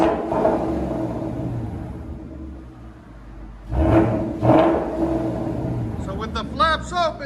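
A 2019 Ford Mustang RTR 5.0 with a Borla S-Type cat-back dual exhaust revs in sport mode with the flaps open, two deep rising blips over a steady rumble, with voices talking around it.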